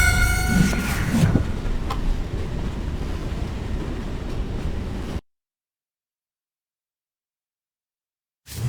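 Freight train rolling in the Western game Call of Juarez: Gunslinger, a rumbling rail clatter with a brief horn-like tone at the start, then dropping to silence midway.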